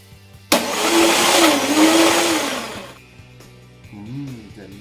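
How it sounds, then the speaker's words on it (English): An Enpee Prestige blender blending ice cream starts abruptly and whirs loud and close for about two and a half seconds, its motor pitch wavering, then cuts off. A voice follows briefly afterward. "if you're ready to blend this in, you just use a marvelous cap at the end of the blender"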